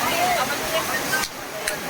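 Heavy rain pours over an outdoor folk dance performance in Malajkhand, Madhya Pradesh, a steady wash of falling water with crowd babble and voices mixed throughout.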